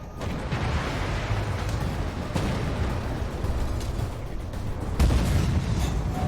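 Tank cannon fire in the Armored Warfare video game's War Games mode: a couple of heavy booms, a few seconds apart, over a constant low engine rumble, with no talking.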